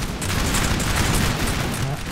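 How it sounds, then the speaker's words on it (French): A musket volley in the Napoleon: Total War game: a dense, rolling crackle of many near-simultaneous shots blending into a loud, continuous rumble lasting about two seconds. "cette salve"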